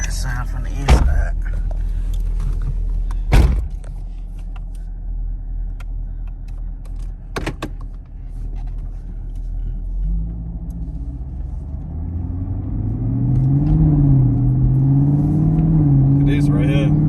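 A muscle car with stock exhaust pulls hard, heard from inside the cabin: a low idle rumble with a few sharp clicks, then the engine note climbs steadily as it accelerates and grows louder toward the end.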